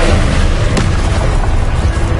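An Expelliarmus spell blast in Hogwarts Legacy hits with a loud, deep boom and a sharp crack early on, followed by continuous rumbling low impact noise.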